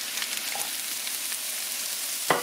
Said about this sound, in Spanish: y voy a dejar que también se sofría un poco